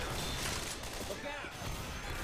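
Gunfire in Left 4 Dead 2, a dense, continuous barrage of shots filling the whole moment, with people talking over it.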